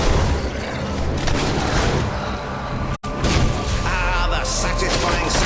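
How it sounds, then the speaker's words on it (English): Heavy, repeated thrashing blows on a corpse in Fable III combat, loud and continuous with booming, crashing impacts and whooshes, broken by one brief drop to silence midway. "Satisfying sound of a corpse being thoroughly thrashed"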